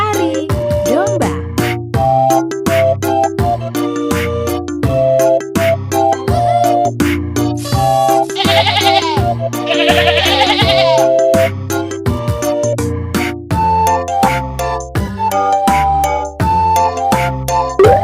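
Sheep bleats sound repeatedly within a children's find-the-animal game, mixed into bright chiming music with a rhythmic melody and short ringing effects throughout.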